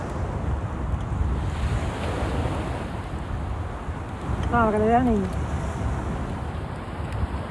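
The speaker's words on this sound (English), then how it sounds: "By the sea, there's always a fresh breeze blowing." Sea breeze on Delicias beach in Cuba, a constant rushing wind and surf noise buffeting the microphone, with a brief voice rising over it midway.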